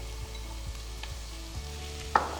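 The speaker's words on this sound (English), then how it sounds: "So saute this on about medium high for about 2 to 3 minutes, or until the onion is translucent or the carrots and onion are lightly brown" Onions and carrot sauté in sausage fat over medium-high heat for Vietnamese fried rice, a quiet steady sizzle with a few soft stirring taps and a sharper clink near the end.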